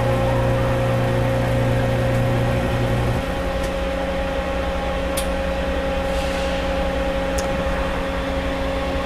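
An A/C servicing vacuum pump evacuating a vehicle air-conditioning system hums steadily with a tonal drone; a lower tone drops out after about three seconds, leaving an even mechanical whir, close and alone.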